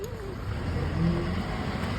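A car approaching along a road, its engine rumble steady and swelling slightly midway as it draws nearer, with faint background noise throughout.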